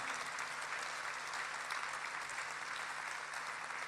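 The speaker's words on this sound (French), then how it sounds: "Vamos a dar un fuerte aplauso al Señor Jesucristo." Applause from an evangelical revival crowd at the Zénith in Rouen, a steady, dense wash of many hands clapping that holds evenly for the full length, moderately distant and without pauses.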